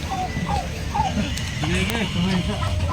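Hybrid turkeys gobbling and clucking in short repeated calls in a pen, over a dense, noisy background of many turkeys.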